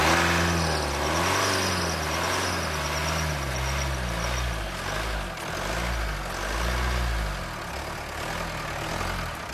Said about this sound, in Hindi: गाड़ी का एक बार सेल्फ मार के आपको दिखाता हूँ।